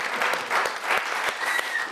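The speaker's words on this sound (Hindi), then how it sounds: "कविता समाप्त हो गई है, तालियां बजाइए।" Audience applause at a Hindi satirical poetry recital (kavi sammelan) after a poem ends, a steady burst of clapping with a few louder swells, close and alone with no talk.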